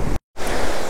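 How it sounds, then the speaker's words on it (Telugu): Thatiguda waterfall near Araku roars as a steady, loud broadband rush of falling water close by, with a brief sudden dropout before the roar resumes, with no talk. "ఈ వాటర్ ఫాల్ యొక్క సౌండ్కి నా వాయిస్ ఏం వినిపించదు"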